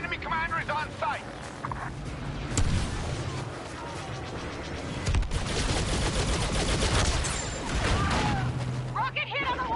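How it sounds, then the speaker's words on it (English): Chaotic battle noise in a video game, with a sharp rocket impact on a walker among bursts of gunfire and booms, while voices talk over the action. "Rocket hit on the walker!"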